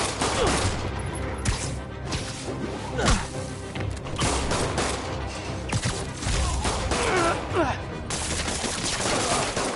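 Rapid bursts of gunfire and crashing impacts fill a battle in the PS4 game Marvel's Spider-Man, dense and loud throughout, with brief whooshes mixed in.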